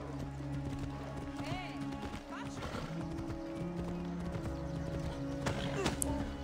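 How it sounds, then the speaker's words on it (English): A flaming horse gallops in a video game, its rhythmic clip-clop hoofbeats and a whinny sounding over game music, while a player talks throughout. "You see a big flaming horse coming your way?"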